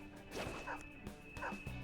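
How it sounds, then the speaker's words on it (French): A dog barks twice in Persona 5 Royal, two short yapping calls about a second apart over a steady hum of game background sound, with no talking. "Il y a un dogo ici."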